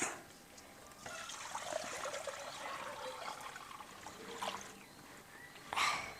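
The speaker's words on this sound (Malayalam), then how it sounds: "നമുക്കിനി ഒന്നാം പാല് ഇതിലേക്ക് ഒഴിച്ചു കൊടുക്കാം" First-press coconut milk pours into a pan while making virgin coconut oil, a soft close trickle of liquid that rises and fades over several seconds, ending with a brief louder splash.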